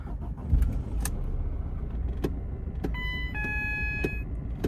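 A Ford Fiesta engine runs roughly and jolts, a steady rumbling drone broken by sharp clicks and knocks, with a thin electronic whine rising briefly near the end.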